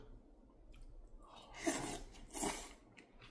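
A seasoned raw sea cucumber dish, dressed with a chili-paste sauce, is chewed close to the mic, giving two soft, wet, crunchy bites over a quiet background with no talking.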